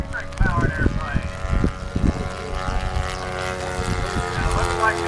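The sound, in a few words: gasoline-powered and electric model airplanes flying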